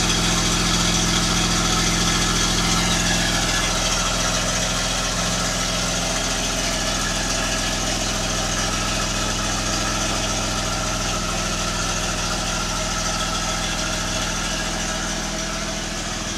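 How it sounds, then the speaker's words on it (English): A 2011 Jeep Wrangler Sahara JKU with its factory exhaust and a newly installed turbo idles nearby, a steady, loud, low rumble that holds even for the whole stretch, with no one speaking. "Factory exhaust."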